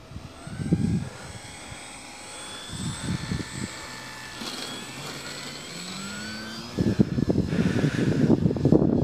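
A Dynam Beaver RC model airplane with flaps down makes a touch and go, its small electric motor whining and changing pitch as it passes, with bursts of wind buffeting the microphone.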